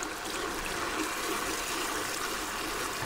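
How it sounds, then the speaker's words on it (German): Broth is poured into a butter-flour roux in a Dutch oven, a close, steady liquid splashing and trickling that runs evenly throughout. "Und dann werden wir das Ganze jetzt mit unserer Brühe ein bisschen aufgießen"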